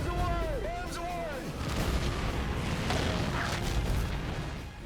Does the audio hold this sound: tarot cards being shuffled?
no